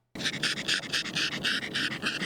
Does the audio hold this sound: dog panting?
yes